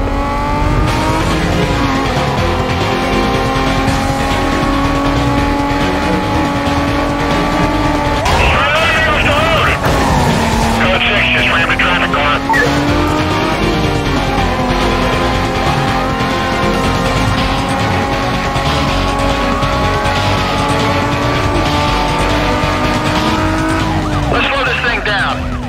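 Cars race in a Need for Speed police chase: a loud, continuous engine drone with gear shifts rising and falling, and short tire squeals partway through, under radio chatter and talk.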